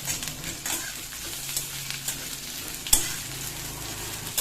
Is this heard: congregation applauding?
no